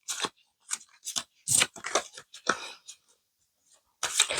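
Tarot cards being mixed by hand, heard as a run of short crisp riffles and slides in close, quiet bursts with brief pauses between them and no talk.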